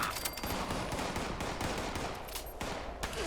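Distant automatic gunfire rattles in Fallout 76, a faint, fairly steady stream of shots with occasional sharper cracks and no speech.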